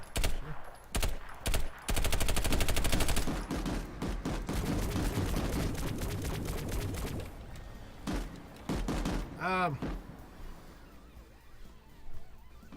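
PlanetSide 2 video game gunfire from a PDW, short bursts then sustained rapid automatic fire that thins into scattered shots and battle noise, with a whooshing sweep near the end, loud and dense throughout.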